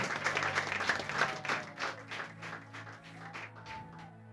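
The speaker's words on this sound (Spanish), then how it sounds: "Si va a aplaudir, apláudale fuerte al Señor." A church congregation applauds during a sermon, a soft, loose scatter of claps that thins out over a few seconds, with a steady low hum underneath.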